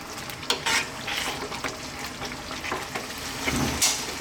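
Jamaican brown stew chicken with brown sugar and browning sauce cooking in a pot, a soft sizzle with spoon stirring and scraping noises and occasional clinks against the pot, close up, no talk.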